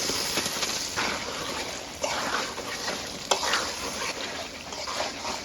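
Egg going into a pan of spiced masala with salt, green chilli and bay leaf, sizzling and being stirred steadily, with a few sharper scrapes and splashes standing out over the frying.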